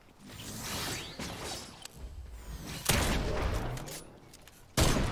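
Video game gunfire crackles in bursts, with sharp reports and a heavy volley near the end and a sudden final burst, mixed with mechanical clatter and whooshes at moderate loudness.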